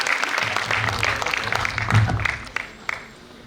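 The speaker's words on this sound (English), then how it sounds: "round of applause to Ayan Pal" Audience applause at a Toastmasters district meeting for a speaker, a steady patter of many hands that swells around the middle, then tapers off with a few last scattered claps.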